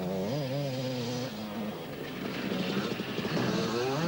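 Husqvarna enduro motorcycle at a 1991 enduro world championship round in France, its engine revving with rising and falling pitch, loud and steady throughout with no talk over it.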